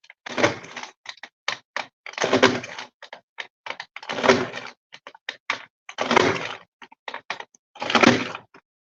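Paper punch cutting a decorative border into a page, five firm crunching punches at a steady rhythm, each followed by a few short clicks and taps of the tool, close and alone.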